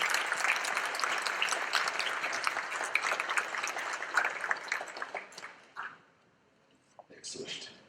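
Audience applause at a music festival concert, a dense sustained clatter of clapping that fades out near the end, followed by a brief burst of talk.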